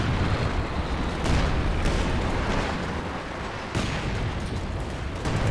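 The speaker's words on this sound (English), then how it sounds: "we've got a priest barrage coming through" A Priest self-propelled artillery barrage in the wartime strategy game Company of Heroes 2 booms and rumbles in a dense, continuous roll of blasts, with no voices over it.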